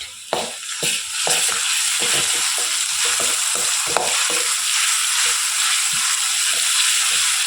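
Ginger garlic paste hits fried onions in hot oil in a home kitchen, making a loud, continuous crackling sizzle with frequent sharp taps and scrapes from stirring throughout.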